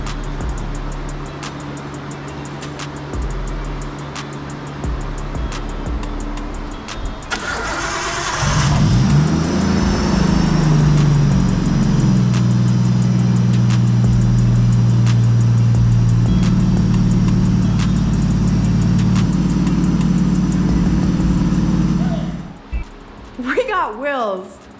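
Nissan Skyline RB20 single-turbo engine cranks and fires up partway through, then idles and revs loudly and close by before cutting off near the end, with voices talking over the early part.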